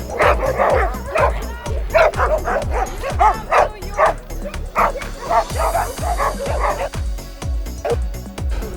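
East Siberian Laika hunting dogs bark and yip continuously at an outdoor dog show, a dense chorus of overlapping close barks with some whimpering, loud and busy throughout.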